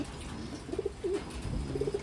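A territorial checkered male Taiwan pigeon coos softly in short low bursts over a steady hiss of background noise, with no voices.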